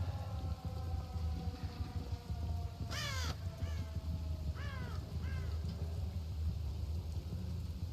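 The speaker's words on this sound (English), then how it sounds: "Heard the crow are calling." Crows caw twice in quick pairs, distant and moderately faint, over a low rumbling ambient drone in the Silent Hill map of Dead by Daylight; no voices.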